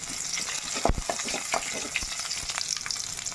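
Finely chopped shallots and a sprig of curry leaves frying in oil as a tempering for a tamarind-free fish curry, a dense crackling sizzle with occasional stirring scrapes, close and steady with no voices.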